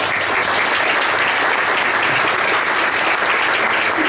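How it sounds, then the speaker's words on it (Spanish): Loud, dense applause from a large audience fills an awards ceremony, the Premios Planeta Nuevo Milenio 2010 in Ushuaia, with clapping that stays steady and close throughout. "Que le pido un fuerte aplauso para ella."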